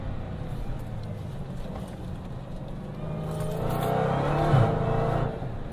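A Dodge Challenger Hellcat's supercharged V8 roars steadily, then blips and rises through quick downshifts approaching a sharp left-hand turn, loud and close from inside the car.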